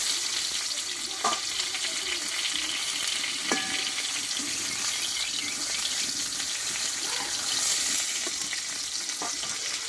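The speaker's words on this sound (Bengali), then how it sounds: "ভালোভাবে পটলটা আমি কষিয়ে নিলাম" Pointed gourd (potol) fries in hot oil with a constant dense sizzle, now and then marked by light stirring clinks, continuing evenly throughout.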